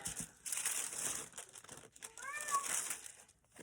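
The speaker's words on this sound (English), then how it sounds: "I'm going to wrap up the Memory Decks card" Paper and wrapping material crinkle and rustle in bursts as a Memory Decks card is wrapped up for a circus and carousel themed swap package, with a brief cat meow heard partway through.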